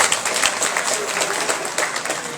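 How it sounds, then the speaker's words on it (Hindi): An audience applauds a performer at a school celebration of a historic under-19 tournament victory, with brisk, close clapping from a crowd lasting a couple of seconds. "मिस्टर सुमित शर्मा जी के लिए जोरदार तालियां चाहूंगा मैं।"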